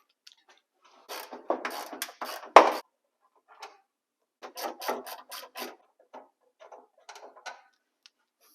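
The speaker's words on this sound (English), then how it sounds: "I'm taking these two bolts out. I believe they are 13 millimeter." A wrench or ratchet backing out 13 millimeter bolts on the front of a G-body car fender, heard as short bursts of clicking and metallic rasping separated by pauses, close up and with no talking.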